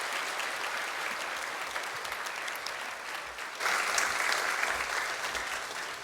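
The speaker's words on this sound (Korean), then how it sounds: "다시 한번 격려 박수 한번 해주시고" A church congregation claps in encouragement at a Sunday worship service, a steady wash of many hands that swells louder partway through and carries on evenly to the end.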